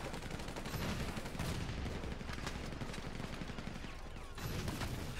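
Sustained bursts of automatic gunfire in GTA V fill the stretch, loud and dense with rapid overlapping shots and brief gaps, with no talk over them.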